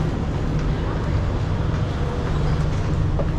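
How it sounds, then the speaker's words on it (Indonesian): An MRT subway train pulls into an underground Singapore station with a steady low rumble and hum, with faint voices around it. "oke, MRT nya udah sampai."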